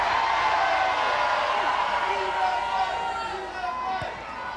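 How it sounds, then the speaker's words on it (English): A rugby crowd in the stands at a Wales versus France women's Six Nations match cheers a Welsh score, a broad steady roar that fades slightly toward the end, with commentary talking over it. "the crowd realising it and acknowledging it from the stands"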